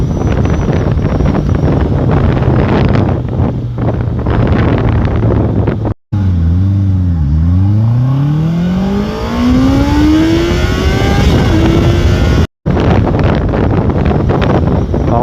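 A 2021 Honda CBR 650R motorcycle engine revs hard while riding, climbing high through the rev range with gear changes and sweeping pitch rises, loud and close under heavy wind noise.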